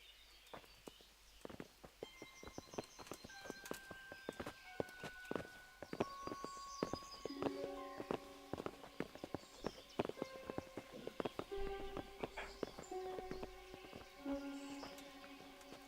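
Horses clip-clop in the Kingdom Come: Deliverance video game, with steady hoof steps throughout under a layer of sustained musical tones, moderately close and even in rhythm.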